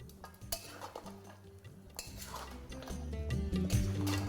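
A spoon scrapes and clinks against a pot as mutton is stirred with ground spices, irregular metallic knocks and scraping strokes growing denser and louder toward the end.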